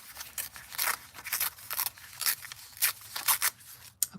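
A sheet of paper is torn by hand for masking in card crafting, giving a series of close, crisp ripping and rustling bursts in short irregular strokes, with a sharp snap at the end and no talking.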